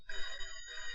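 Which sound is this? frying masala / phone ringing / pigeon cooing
phone ringing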